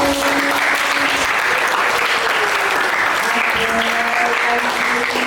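An audience in a school classroom claps for a teacher, with sustained, dense applause continuing at an even, loud level throughout and a few faint tones mixed underneath.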